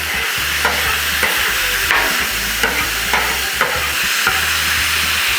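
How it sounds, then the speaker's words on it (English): Loud, steady sizzling of chicken and fajita vegetables frying on a hot Blackstone griddle, broken by regular scraping and stirring strokes about every half second, with no voices. "There's some nice sizzle down there."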